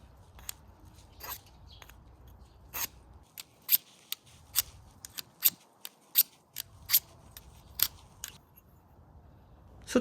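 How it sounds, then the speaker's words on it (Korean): Steel blade of Felco pruning shears drawn repeatedly along a small whetstone, a series of sharp scraping strokes in a loose, uneven rhythm, close and fairly crisp with no voices. "숫돌을 가위의 날과 같은 방향으로 만들어 끼우고 몸 안쪽으로 당기듯이"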